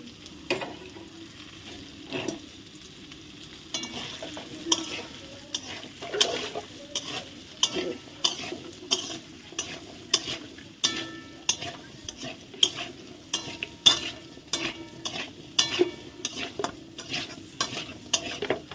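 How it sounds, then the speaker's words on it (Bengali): Potatoes with turmeric fry in a pan during home vegetarian cooking, a steady soft sizzle broken by regular, rhythmic scraping strokes of a spoon stirring against the metal, close and fairly loud, with no talking. "এখন আলুগুলো ভালো ভাজা হোক"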